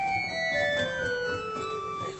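A twelfth (nazard) stop on the church pipe organ at St Marys The Virgin, Radwinter, Essex, sounds steady, bright and hollow, with sustained notes sliding gently lower at an even volume throughout.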